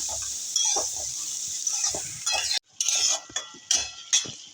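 A spatula stirs bottle gourd with shrimp in a hot pan, making irregular scraping clinks and knocks over a steady bright sizzle, with one brief pause mid-way.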